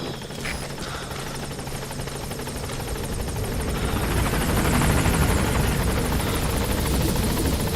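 Support helicopter in Metal Gear Solid 5 approaching a landing zone, its rotor thump and turbine whine steady and loud, swelling gradually as it draws nearer, with no voices over it.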